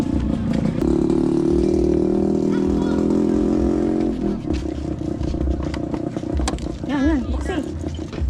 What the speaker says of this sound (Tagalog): Ngayon po ay maraming daan ng motor dahil may sayawan po doon sa barangay